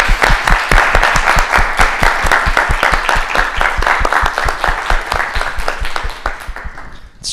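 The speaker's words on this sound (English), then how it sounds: "So if we can put on a round of applause for everyone in the space." Conference attendees applaud everyone in the space, a loud, close round where individual claps stand out in a quick, fairly regular rhythm before tapering off and stopping near the end.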